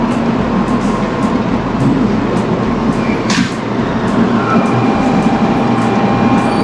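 High-speed bullet train at Hiroshima station, rated at 350 km/h, a loud, steady rumble and roar of rail running close by, with a brief hiss or squeal partway through, no talking.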